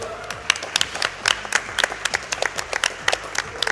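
Steady applause from a speedrunning event audience, many hands clapping in a quick irregular patter with a few sharper claps standing out.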